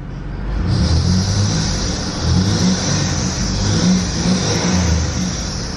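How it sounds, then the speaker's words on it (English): A 1997 Buick Riviera engine revs up and settles in repeated surges, with a steady, high-pitched serpentine belt squeal whining continuously above the engine throughout. "Now there's that belt squeal again"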